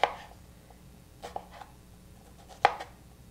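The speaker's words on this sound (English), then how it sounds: "So I peeled the shallots and I'm just going to chop them up pretty finely" A knife chops peeled shallots finely on a board, giving a few sharp, sparse taps at irregular intervals against a quiet background.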